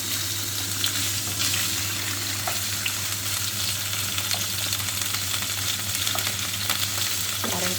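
Adobo tofu sizzles in a hot pan, a dense constant frying hiss with faint scrapes and a few light clinks, with no voices.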